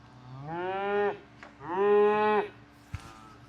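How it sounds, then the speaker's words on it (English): A mini Highland cow moos twice in long, drawn-out calls, close and fairly loud, with a quiet pause between them and a brief knock near the end. "Here we have is a mini Highland cow."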